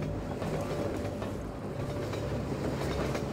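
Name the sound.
train moving in the video game Half-Life 2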